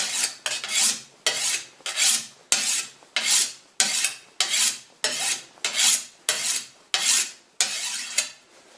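Sharpening a sickle blade by hand: a dry, rasping scrape repeated about fourteen times in an even rhythm, each stroke swelling and cutting off sharply, close and fairly loud with no voices.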